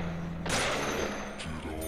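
Gunfire in the video game Deadly Premonition Director's Cut: one sharp, loud shot with a short burst of noise, then a second fainter shot just before the end, over a low steady game hum.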